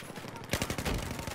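Rapid gunfire from a squad-based video game shooter rattles out in quick, close tap-fired bursts, dense and continuous through the short stretch.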